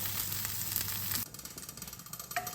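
Gundruk and dry fish being fried for achar give a soft, continuous sizzle that drops quieter partway through, with faint scraping of stirring near the end.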